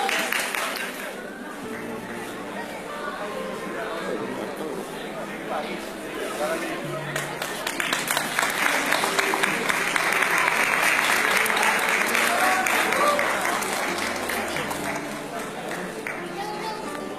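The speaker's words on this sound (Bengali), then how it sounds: "জোরে হাততালি।" A crowd at a freshers' welcome event claps loudly for the Miss Freshers winner, sustained applause that builds to a peak midway with cheering and crowd chatter mixed in, fading slightly at the end.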